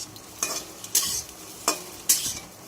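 Cut paneer pieces frying in a pan, a soft continuous sizzle punctuated by four sharp scraping stirs of a utensil against the pan.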